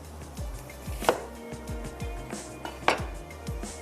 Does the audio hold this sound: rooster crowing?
no